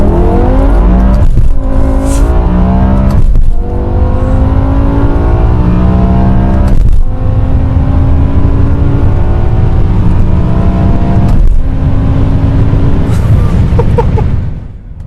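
A 2007 BMW E63 M6 with its V10 pulls hard from first gear, revs climbing loud and close through several sharp upshifts with no talking.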